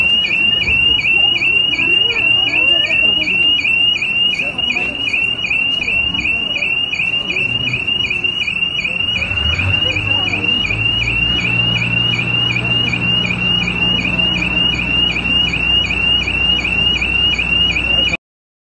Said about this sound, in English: that was just an alarm going off.